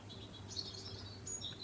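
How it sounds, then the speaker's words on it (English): Faint birds chirping outside an open window, a few soft high tweets over a quiet room hum, with no talking. "I've had my window open this whole time also, and I hope the birds haven't been too noisy."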